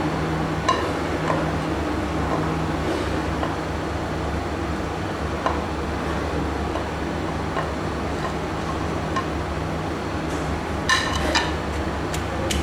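Fried red chili, anchovies, salt and sugar pounded with a pestle, making steady rhythmic thuds and occasional clinks for a long stretch, fairly loud and close with no talk.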